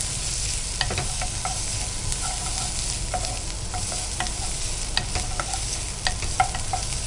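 Long-sliced green chillies and a little onion fry in a pan for a mint mushroom fry, a steady, dense sizzle broken by scattered clicks and scrapes of stirring, with no voices.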